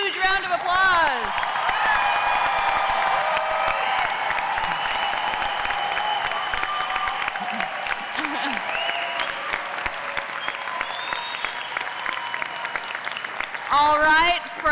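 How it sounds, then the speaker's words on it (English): A big graduation ceremony crowd applauds graduates with sustained clapping and scattered cheers, and voices talk and call out over it throughout. "Can we give them one big, huge round of applause?"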